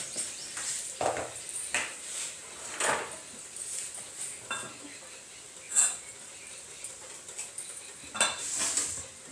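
Cumin seeds drop into hot oil on a stove, with soft sizzling under stirring and clinks of a metal spoon against the pan, nearby and intermittent, with a few sharper clanks.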